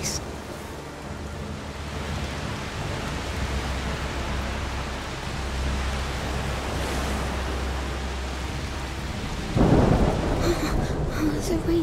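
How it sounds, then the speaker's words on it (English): Steady heavy rain and storm ambience from the video game A Plague Tale Requiem, a dense hiss with low thunder rumbling underneath, swelling louder near the end with a sharper burst of downpour. "Oh, the rain is getting worse. It's just a storm."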